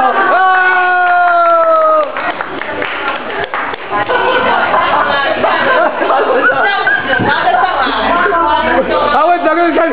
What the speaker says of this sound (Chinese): 拍拍手，拍拍手